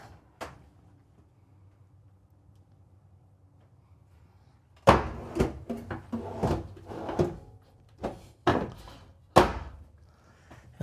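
Drawers and cabinet doors in the bathroom of a 2024 Newmar Dutch Star motorhome being opened and shut, a single early knock, then a quiet pause followed by a cluster of sharp close thunks and slides, no voices.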